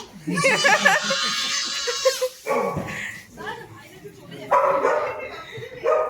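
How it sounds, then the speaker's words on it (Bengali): A dog barks at a house in repeated bursts, close and fairly loud, mixed with people talking and some laughter nearby. "পিসি বাড়িতে একটা কুকুর আছে, কুকুরটা ঘেউ ঘেউ করে যাচ্ছে।"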